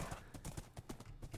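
Hooves of a horse in the Minecraft video game clip-clop in a steady, quick trotting rhythm, each footfall a short hollow knock, fairly quiet with no voice over them.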